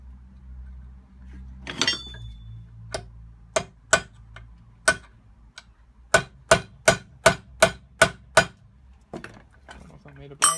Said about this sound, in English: I'm gonna hit that with a hammer somehow.